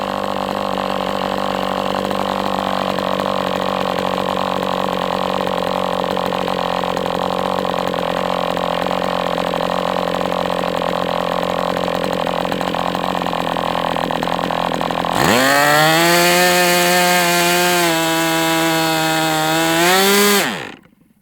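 A small MDS 68 FS Pro model engine on a break-in run runs steadily at high revs for a long stretch, then its pitch surges and wavers as fuel runs out before cutting out abruptly.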